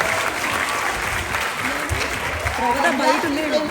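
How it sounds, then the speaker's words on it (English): A crowd applauds steadily, a continuous wash of clapping heard alongside talking voices throughout the short stretch. "So a big round of applause to all."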